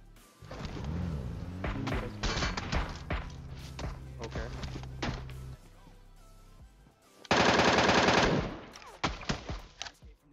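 Full-auto gunfire in the PUBG video game from a Groza and MK14, with rapid bursts of shots, a loud sustained burst near the end, and a voice talking over parts of it.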